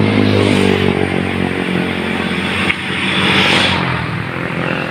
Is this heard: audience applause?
no